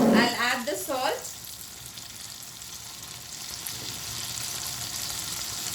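Tomato fish fries on a high flame with a continuous steady sizzle, and a voice speaks briefly over it at the start.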